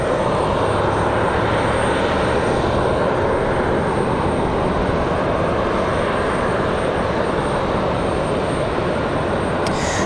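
Air Canada airliner in All Blacks livery at Raleigh-Durham International Airport on a windy day, a steady loud engine roar holding throughout with broadband rumble, no voices.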